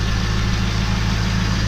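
A 2001 Corvette Z06 with a six-speed and an aftermarket Borla exhaust idles steadily, giving a deep, even burble with a low throb that holds constant and loud, with no talking over it.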